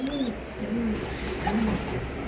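Racing pigeons on a breeding farm cooing softly, several low rolling coos in a short sequence, close by against a quiet background.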